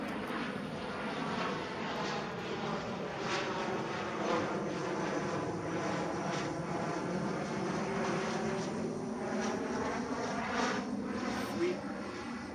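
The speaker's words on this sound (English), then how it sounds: "Look up, there's a plane passing." An airplane passes overhead with a steady, broad engine drone that stays fairly even throughout, heard at a distance and fairly quiet.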